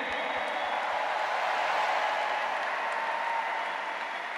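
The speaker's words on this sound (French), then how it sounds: "Bonne main d'applaudissement pour Charles Séguin." Applause from a large arena audience welcoming a comedian onstage at the Centre Bell, a steady, dense wash of many hands clapping that holds evenly loud for several seconds.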